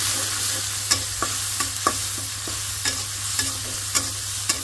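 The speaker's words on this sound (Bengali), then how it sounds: "তো একটু ভাইজা নিই ভালো করে।" Small shrimp with turmeric fry in a pan, giving a continuous loud sizzle with regular sharp clicks of a spatula stirring against the metal, no voices.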